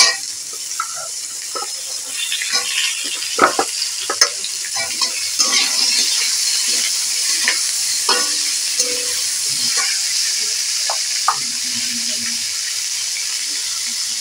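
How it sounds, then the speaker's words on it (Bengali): Cut papaya pieces drop into hot oil seasoned with panch phoron and fry in a pan, giving a steady close sizzle with scattered clinks and stirring scrapes, no talking. "পেঁপে কাটাগুলো দিয়ে দিলাম।"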